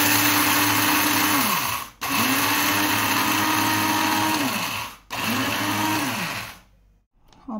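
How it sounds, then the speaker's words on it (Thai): A coffee grinder pulverising roasted rice runs loud and close in three steady whirring bursts, each tailing off with a brief pause between, then cutting out near the end. "เครื่องบดกาแฟนี่แหละมาบดข้าวคั่ว"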